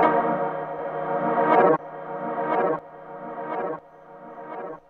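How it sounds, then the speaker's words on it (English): Pure reverse delay effect from an FL Studio plugin, where a sustained processed synth tone swells upward and cuts off sharply four times, each repeat quieter than the one before, with no voice. "You can have pure reverse that only reverses the delay."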